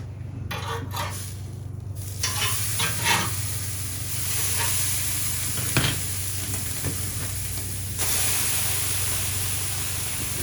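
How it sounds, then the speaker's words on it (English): Steaks searing on a portable Weber Char Q charcoal grill, a steady close hiss and sizzle with a few faint metallic clinks and a brief louder burst partway through. "Let's sear them up."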